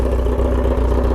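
A new motorcycle fitted with a loud exhaust rumbles steadily at idle, a deep, even engine drone heard up close with no talk over it.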